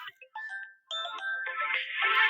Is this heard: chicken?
no